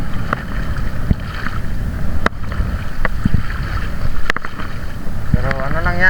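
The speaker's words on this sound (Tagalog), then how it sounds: "Malakas pa naman yung alon dito." Wind and rough sea waves buffeting a small boat, with gusty microphone wind rumble, sloshing water and occasional knocks and splashes throughout.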